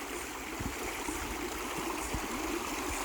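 Water flows steadily through a stream overflow, a constant close rushing wash with faint low bumps and no talking.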